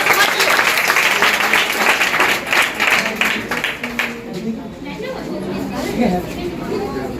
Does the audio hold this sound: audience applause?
yes